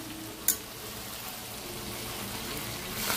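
Potatoes and soybean chunks fry in a kadai with a steady, even sizzle and hiss, opening with a brief sharp clatter, no voices.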